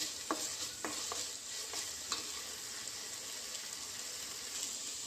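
Okra and onions sizzle in a pan, a quiet steady hiss with a few soft stirring scrapes early on, then even frying alone.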